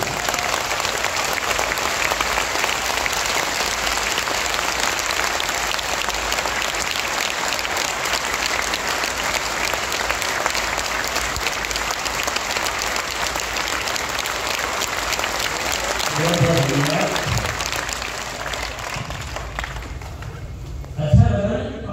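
Sustained applause from a large crowd at a business meeting in Bhilwara, Rajasthan, a dense, even wash of clapping that holds steady for about twenty seconds, then thins out and ends as a voice comes in near the close.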